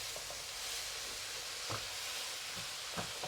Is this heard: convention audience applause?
no